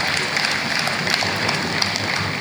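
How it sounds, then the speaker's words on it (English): An audience at a book launch for Chief Edwin Clark applauds former President Goodluck Jonathan, a dense, sustained roll of clapping at steady volume throughout. "Let's give a round of applause to His Excellency, former President Goodluck Jonathan"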